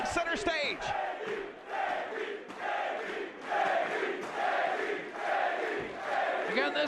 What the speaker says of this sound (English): Again, this crowd voicing their support for Davey Richards.